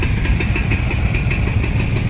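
A group of motorcycles idles close together on pier 6 at Bakauheni port, a loud, steady, throbbing engine rumble with an even pulsing rhythm and no talk.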